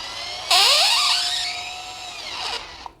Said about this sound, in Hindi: अब इसको टाइट करके देखते हैं ये कितना कर पाता है